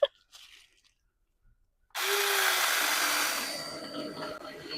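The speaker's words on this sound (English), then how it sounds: "So I'm cutting this tree just like I would with any other chainsaw." A Seesii chainsaw cuts into a tree outdoors, its motor suddenly revving up loud and steady after near silence, then settling into a sustained whining buzz as the chain bites.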